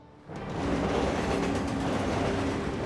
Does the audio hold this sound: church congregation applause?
no